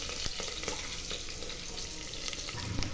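Green and red chillies frying in hot oil for lemon rice, a steady close crackling sizzle with scattered sharp pops and a brief stir near the end, no talking.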